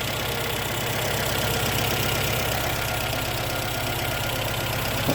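A 1117cc Valencia engine in a Ford Fiesta Mk2 Ghia idles steadily up close, a continuous even rumble with a faint rhythmic tick running through it.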